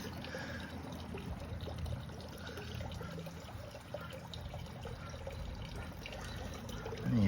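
Water dripping and trickling down from a raised filter into a garden pond, a soft continuous splashing trickle heard up close at moderate level, with no voices.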